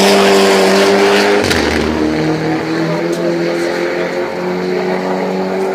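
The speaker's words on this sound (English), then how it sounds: "Waiting now for the second place car to come through." A race car at Oulton Park roars past on the circuit, loud and close, its engine note sweeping down as it goes by and then holding a steady drone as it pulls away down the track.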